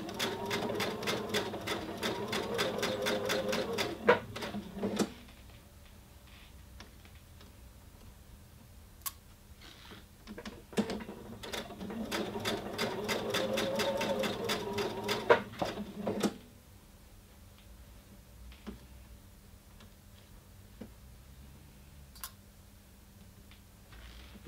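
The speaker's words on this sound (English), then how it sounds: "I'm just going to sew quite quickly down this first section" Sewing machine stitching a princess seam on fabric, two long runs of fast steady needle chatter, each lasting several seconds, separated by quiet pauses with scattered clicks of pins and handling, close and alone.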